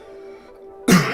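A person with a sore throat and blocked nose coughs once, a short, harsh burst close to the mic after a moment of quiet hum.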